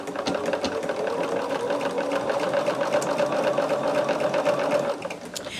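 A sewing machine stitches a quilt block in one continuous run, its fast, even whirring hum close and steady for several seconds before slowing at the end.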